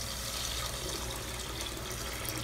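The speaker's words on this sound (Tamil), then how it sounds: "இதில் வந்து தண்ணி சேர்த்துக்கலாம்." Water pours steadily into a pressure cooker holding rice and prawns for biryani, a continuous full, even rushing stream with no talk.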